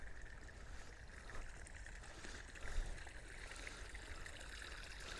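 Water running from an overflow pipe in a nature reserve, a steady soft trickle and rush under faint background noise, with a brief bump partway through.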